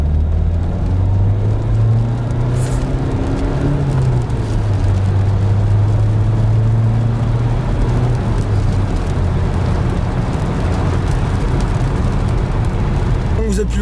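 A Renault Laguna 3 with 130 horsepower accelerates on a rainy road. The engine hum rises and falls steadily under constant loud road and rain noise inside the cabin.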